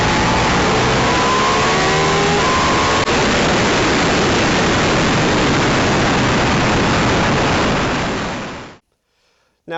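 Motorcycle ride recorded on a front-mounted dash cam, a Ducati Multistrada V4, with steady loud engine drone and wind rush, a brief rising rev early on, continuous until it cuts off near the end.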